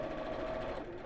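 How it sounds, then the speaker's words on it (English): A domestic sewing machine running a short straight stitch to join four small fabric pieces into a square, a steady continuous whirring hum with a fast mechanical buzz, close and uninterrupted throughout. "just joining all of these 4 pieces together to make a square"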